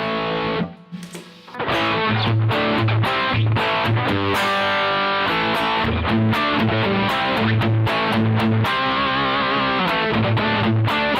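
Electric guitar through an Origin Effects Revival Drive pedal with the high-mid boost engaged plays a driven, rhythmic riff, loud and continuous after a brief opening strum and pause.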